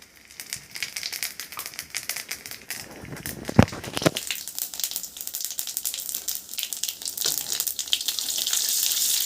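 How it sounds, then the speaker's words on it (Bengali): Cumin seeds dropped into hot mustard oil in a wok set for pomfret in mustard curry, sputtering into a bright, crackling sizzle that builds and grows louder and more continuous toward the end. "কড়াই তো গরম হয়ে গেছে তেলটা গরম হয়ে গেছে এবার হচ্ছে জিরেটা দিয়ে দেবো"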